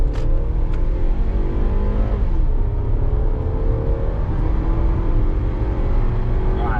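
A Scion xB fitted with a Weapon R header accelerates from a standstill toward 60 mph, its engine droning loudly and steadily as the pitch climbs through the gears, heard from inside the car.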